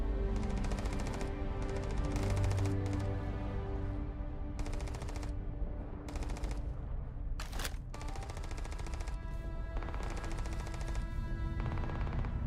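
Pirates fire guns in the space game Starfield with sustained, loud, rapid volleys of gunfire in repeated bursts, a sharp crack standing out partway through over a steady background hum.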